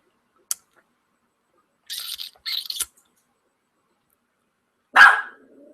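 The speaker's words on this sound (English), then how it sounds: "That's my dog." Dog barking in a mostly quiet room, a few short separate barks, with one tiny click first, then two quick yaps and a louder final bark.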